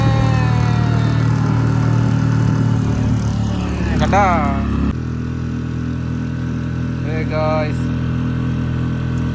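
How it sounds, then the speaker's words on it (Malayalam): A motorboat engine drones steadily as the boat travels along a forested riverbank, a constant low rumble throughout, with a couple of brief voice-like sounds rising over it. "നമ്മുടെ ബോട്ട് അങ്ങനെ സഞ്ചരിച്ചു തുടങ്ങിയിരിക്കുകയാണ്"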